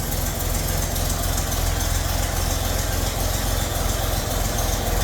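A 1920 Nash car engine idles loudly and close, with a steady, rough low rumble and slight knocking throughout from mistimed ignition and an unadjusted carburetor, no voices.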